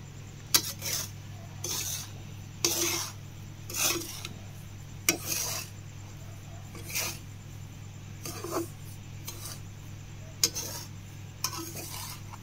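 Semolina for ravva laddu is stirred and roasted in a pan, giving repeated gritty scraping strokes at an unhurried, irregular pace over a steady low hum.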